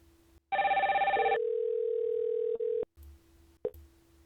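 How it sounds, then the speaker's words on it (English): Zoiper softphone placing a call to another softphone, a loud burst of dialing tones followed by a steady electronic ringback tone, then a few clicks, clear and alone with no talking. "let's call from one soft phone to another one. I'll call from Zoiper to a phone light"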